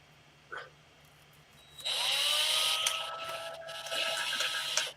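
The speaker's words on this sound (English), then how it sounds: "You're using an electric drill? It is the handiest screwdriver I have in proximity right now." An electric drill used as a screwdriver in a home garage: a brief knock, then a steady, high whining motor run of about three seconds, close and loud.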